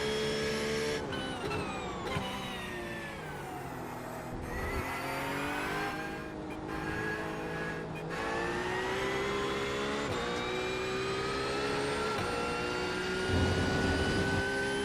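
A GT race car in the iRacing British GT Championship drives with a steady, loud engine drone that rises and falls through gear shifts, with brief dips as it lifts off, and no voice over it.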